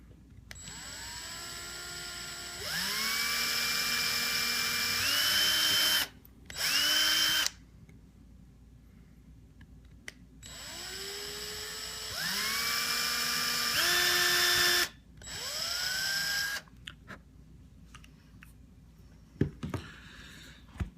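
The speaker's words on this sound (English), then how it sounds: "I'm going to go ahead and drill them out and continue on" A power drill drills out parts from a Blade 180cfx helicopter skid on a wooden block, in repeated long whining bursts that rise in pitch as the motor spins up, with short pauses between, close and loud, no talking.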